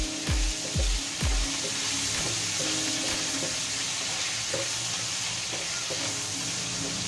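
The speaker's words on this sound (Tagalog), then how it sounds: "ipapry po naman natin doon sa pinagprituhan ang ating saba" Saba bananas fry in hot oil with a steady, close sizzle and hiss, opening with a few heavy thumps as pieces are handled, then settling into continuous crackling with no talking.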